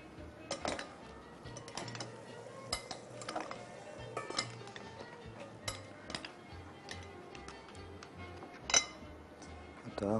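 Salad ingredients being tossed together in a dish, with scattered clinks and taps of utensils against the bowl at an irregular pace, fairly quiet, with a voice talking softly underneath.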